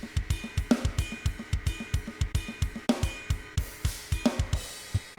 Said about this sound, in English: I ended up finishing up that drum part that I was working on.